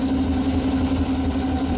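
A Tiger tank engine in Tank Mechanic Simulator idles with a steady, loud low drone and a constant hum, running alone without talk.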